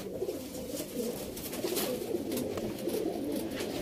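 Sialkoti and Rampuri pigeons, some black-faced, coo continuously in a dense, overlapping chorus, close by and fairly soft, with no one talking.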